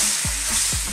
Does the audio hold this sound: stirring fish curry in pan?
yes